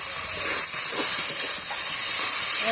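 Cauliflower chicken frying with cumin paste in a pan, a dense continuous sizzle and hiss heard up close at steady loudness throughout, with no voices.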